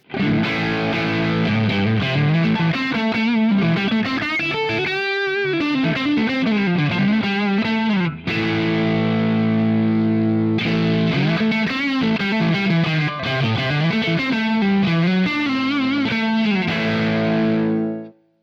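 An electric guitar through a Revival Drive Compact overdrive pedal with presence turned up plays distorted, bright riffs continuously with a crisp, biting high end and a short pause midway.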